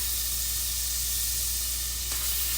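Minced garlic, about one and a half tablespoons, sizzles steadily in a hot pan for adobo chicken, a constant close hiss with a brief extra crackle near the end and no talk.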